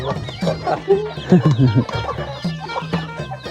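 Chickens cluck near at hand in a rural Lao village, a burst of short, throaty calls rising and falling in uneven clusters, with a voice occasionally heard alongside.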